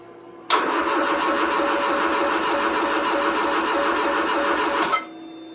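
A classic car engine starts on full choke and settles into a steady, loud, even running note that continues for about four and a half seconds before cutting off abruptly. No one speaks.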